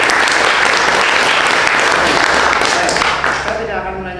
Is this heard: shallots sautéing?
no